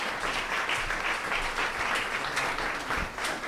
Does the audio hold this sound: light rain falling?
no